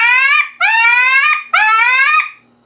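A wood duck call, a compensator model, imitates wood ducks in flight with three loud, drawn-out squealing whistles that rise in pitch. Each lasts about half a second to a second, separated by short gaps, with no other sound around them.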